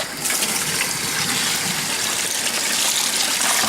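Hot water gushes from a tap into a bucket, a loud, steady rushing pour that starts abruptly and runs without a break.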